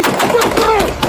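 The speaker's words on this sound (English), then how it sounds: "and officers opened fire." Police officers fire guns in a rapid burst of loud, sharp reports tumbling over one another within about a second, close and harsh, with a voice faintly mixed in.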